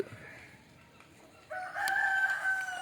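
A rooster crows loudly and clearly, starting midway, over a quiet outdoor background with faint ambient noise.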